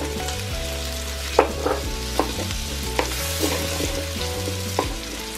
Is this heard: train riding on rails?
no